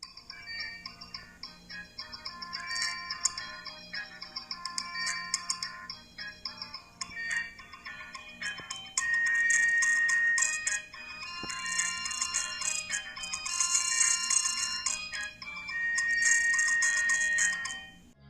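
A Nokia 3310 feature phone plays a polyphonic ringtone melody, bright beeping tones in a repeating tune, clear and fairly loud with no talking.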